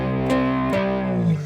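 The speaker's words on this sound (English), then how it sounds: "now on the demo, I added an extra bit of distortion there" Distorted cigar box guitar in a three-string soul country style, sustained chords with strong harmonics and a couple of accented strums, played alone with no talking.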